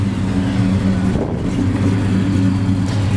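A 1969 Chevrolet El Camino big-block V8 with Flowmaster exhaust runs close by, holding a steady, deep, throbbing idle from start to finish with no other sound.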